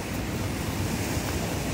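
Sea waves wash steadily onto a cold, windy shore in Taiwan, a dense continuous roar of surf mixed with wind buffeting the microphone, with no voices.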